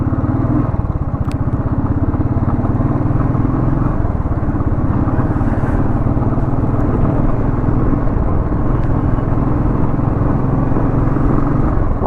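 A motorcycle rides at speed with a steady, loud engine drone and heavy wind rush picked up by a helmet-mounted motovlogging mic, with no break in the noise.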